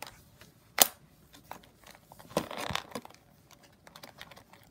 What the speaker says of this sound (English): I'm gonna cut her neck wires first.